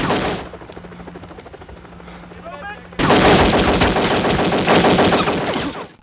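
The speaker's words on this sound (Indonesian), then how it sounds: "FBI pun refleks menembaknya." Gunfire erupts in a film scene as FBI agents open fire, with rapid automatic bursts and sharp shots coming after a quieter stretch, then a loud, dense volley running to the end.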